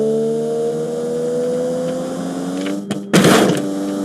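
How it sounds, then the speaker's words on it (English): A three-cylinder supercar engine in a car-building video game whines with a steady tonal drone that rises slowly in pitch, then cuts off sharply into a short burst of hissing noise near the end. "Oh, come on. Why is it revving so slowly?"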